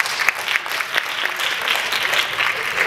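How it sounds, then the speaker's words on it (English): A crowd at a community luncheon gives a round of applause, dense steady clapping with a few sharper individual claps standing out, continuing throughout without talk. "I believe that you should give them a round of applause as well for coming out and sharing love"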